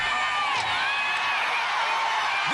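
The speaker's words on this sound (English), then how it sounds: "This crowd's screaming for her to keep going." A crowd at an American Ninja Warrior All Stars event screaming and cheering for a woman climbing, a steady loud wash of shrieks and whoops that runs without a break.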